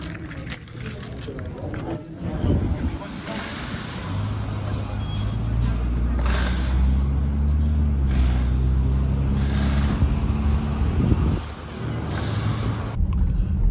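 A Toyota Land Cruiser on new KO2 285/75/16 tires drives with a steady, low engine drone and road rumble that rises and falls. Keys jangle near the start, and a person talks over the noise.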